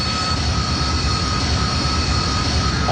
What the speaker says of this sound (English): When the Harrier comes to the hover, obviously most of the thrust goes from the engine to the 4 nozzles on the fuselage.